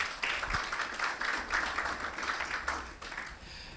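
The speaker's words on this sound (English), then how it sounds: "Please, can we another round of applause?" An audience at a report launch on startup policy gives a presenter a round of applause, a fairly quiet, even patter of many hands clapping throughout.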